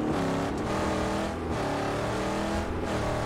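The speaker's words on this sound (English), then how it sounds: "I love how the car sounds" A continuous car engine hums and revs steadily in the video game Mad Max, with slight pitch shifts and no talking.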